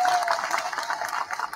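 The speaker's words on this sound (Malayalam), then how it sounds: "നിങ്ങൾ ഒരിക്കൽ കൂടി കൈയടിക്കൂ" Applause and clapping from an audience at a political speech in Kerala, a steady dense patter of many hands with crowd noise, fairly distant.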